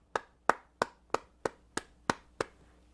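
Eight sharp, evenly spaced hand claps ring out alone at a slow, deliberate pace, each one crisp and distinct with a short decay.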